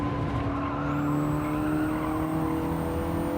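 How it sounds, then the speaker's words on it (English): Front-wheel drive car sliding in Gran Turismo 7 during online lobby racing with friends, a steady engine drone with a sustained high tire-squeal whine carrying through the slide, loud and continuous. "I didn't think you were supposed to be able to slide a front-wheel drive car like that."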